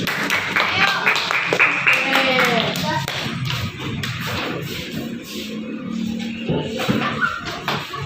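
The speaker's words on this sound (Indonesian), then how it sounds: "beri tepuk tangan untuk teman-teman kita" Schoolchildren in a classroom clap for their classmates, a scattered, uneven patter of hands mixed with thumps and shuffling, while voices talk over it.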